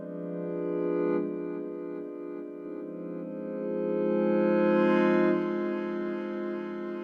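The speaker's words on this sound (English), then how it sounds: "Let's see what some reverb sounds like with it." A sustained synthesizer tone with a slow attack swells and recedes, its rich harmonic stack smeared by long reverb into a continuous, airy wash with no talking.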